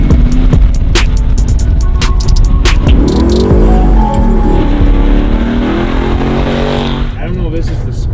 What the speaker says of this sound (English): That's a Ken Blocks car, right? Yeah, it's a replica of it